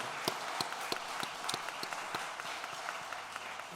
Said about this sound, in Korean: 한번 박수로 한번 뜨겁게 감사하고